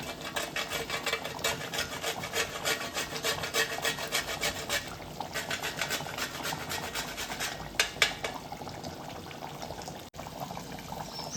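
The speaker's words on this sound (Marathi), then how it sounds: "इथे मी थोडंसं जायफळ किसून घालणार आहे" Nutmeg grated over mutton curry, a soft continuous rasping scrape with rapid repeated strokes, close and fairly quiet, with a small knock near the end.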